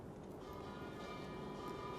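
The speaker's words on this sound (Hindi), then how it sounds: "घंटी बजी है।" A bell rings steadily and fairly loud throughout, its sustained tones and overtones carrying without pause during a Brahmasutra discourse session.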